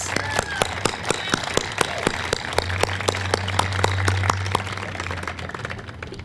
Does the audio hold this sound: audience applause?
yes